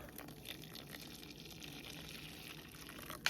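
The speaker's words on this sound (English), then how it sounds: "Okay, our water is now boiled. I'm pouring it into the bowl." Freshly boiled water pours into a bowl for a triple lemon poke cake, a soft, steady splashing gush heard faintly and close with no talking.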